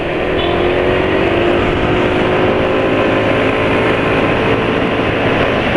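A motorcycle engine running rough on BM1 oil with Pertalite fuel, a steady continuous drone held close and loud throughout with no talk over it.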